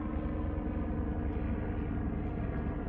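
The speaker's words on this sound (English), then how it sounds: "the helicopter come to check what Aronne is doing." A helicopter flies overhead, a steady low rumbling drone that stays constant and fairly loud for the whole stretch, with no voices.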